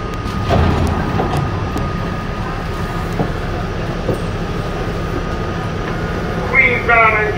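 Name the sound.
1987 Westinghouse R68 New York subway N train running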